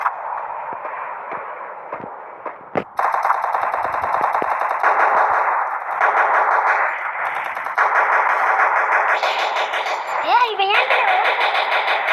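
Rapid bursts of gunfire from a shooting video game crackle loudly and almost continuously, with a few separate shots early on, heard under excited voices talking.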